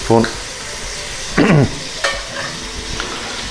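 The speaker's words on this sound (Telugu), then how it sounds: "మంచిగా ఫ్రై అవుతుంది." Ginger garlic paste fries with onion in a pan for bagara rice, producing a steady close sizzle broken by a few sharp stirring scrapes.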